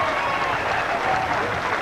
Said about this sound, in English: the Scottish crowd are celebrating